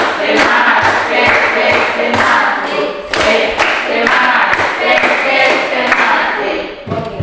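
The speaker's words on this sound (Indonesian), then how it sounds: "Tepuk semangat 3 kali" A group of children does a patterned spirit clap in a classroom devotional session, loud rhythmic bursts of claps repeated in three rounds, with some voices mixed in.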